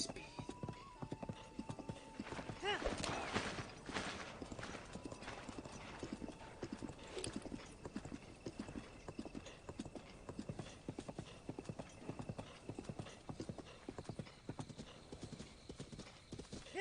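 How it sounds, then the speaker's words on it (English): In a video game, horse hooves clip-clop in a steady rhythmic trot, with a brief whinny-like burst near the start, all fairly quiet and continuous. "Is that just the horse noise, or am I in danger?"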